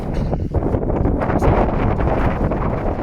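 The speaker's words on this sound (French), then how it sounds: "Le vent est froid" Cold mountain wind in the Alps near the Beaufortain, loud gusty buffeting across the microphone, a continuous roaring rush with no voices.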